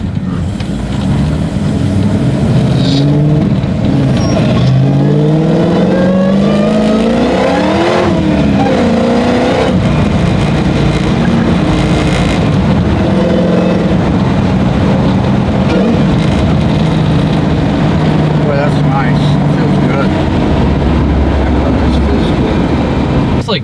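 A 1971 muscle car with a 707 horsepower engine roars loudly and continuously as it accelerates, its rising engine pitch sweeping up through gears close by with faint background talk.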